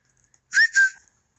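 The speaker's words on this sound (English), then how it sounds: "And they're finally starting to respond to whistles" A person whistles to call puppies outside a house: two short, clear rising whistle notes close together, loud against near silence.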